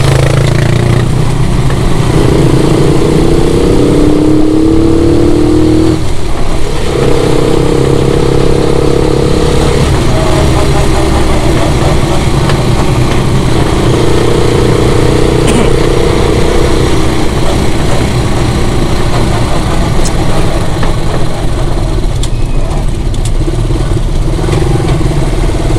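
A Rusi Caruza 200FI motorcycle with a 200cc fuel-injected engine idles close by at a loud, steady putter, and its pitch rises in several short revs throughout.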